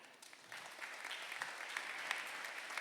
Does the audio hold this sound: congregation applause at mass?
yes